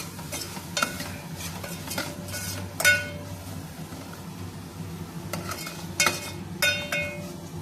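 Diced cucumber sizzles softly in a pan as a utensil stirs it, with sharp metallic clinks against the pan at irregular intervals.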